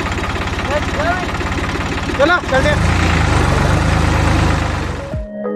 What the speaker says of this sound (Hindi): इंजन शुरू हो गया